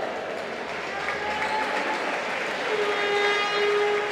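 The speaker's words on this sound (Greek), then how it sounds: "Χειροκροτήματα και από τους φίλους του Ολυμπιακού" Olympiacos fans applaud at a boys' Panhellenic championship game against GS Peristeri, a steady crowd clapping that fills an indoor arena, with a commentator talking over it.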